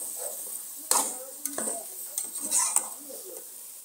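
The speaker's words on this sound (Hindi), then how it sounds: "साथ साथ काटूंगी और इसको भी भूनूंगी।" Potato and drumstick curry (aloo sahjan) frying in a pan, with brief stirring scrapes and clinks over a faint sizzle, close but fairly quiet, no clear talking.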